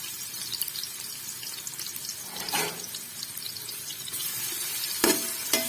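Onions go into a pressure cooker for a Punjabi carrot, potato and methi dish, giving a steady fry-like hiss with faint stirring, broken by a couple of short clattering knocks near the end.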